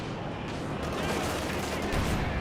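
Battle noise from Company of Heroes 2 with a Panzer IV tank shelling infantry, a dense continuous roar of gunfire and explosions blended together at full loudness, with no distinct separate shots.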